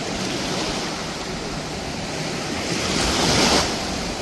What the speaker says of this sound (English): Oh, they got bigger waves. They do got bigger waves.